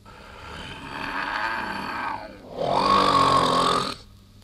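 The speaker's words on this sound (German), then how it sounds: "wie laut die alte Frau nur schnarcht" An old woman's loud, drawn-out snore rises and falls, then a harsher, louder snorting breath follows after a brief pause, with no talking.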